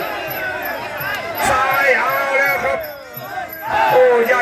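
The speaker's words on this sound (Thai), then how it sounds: "เสียงเชียร์เริ่มดังเลยครับ" Spectators at a rural northeastern Thai Muay Thai bout roar and shout in a loud, continuous wave of cheering that swells and dips. An excited announcer calls the action rapidly over the crowd.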